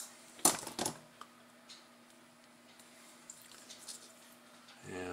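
A ground system wire is snipped during an Omron sensor installation, giving two quick, sharp clicks close up near the start, followed by faint handling noise in a quiet room.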